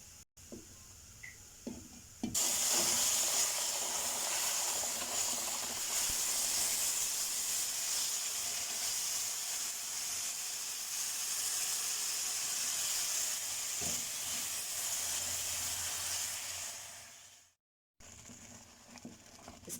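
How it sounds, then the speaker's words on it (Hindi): Sugar syrup poured onto hot roasted gram flour and semolina bursts into a loud, steady hissing sizzle that runs for about fifteen seconds, then cuts off, with faint scraping before and after. "अब इसमें हम लोग जो शीरा हम लोगों ने ऑलरेडी तैयार किया हुआ था वो ऐड करेंगे"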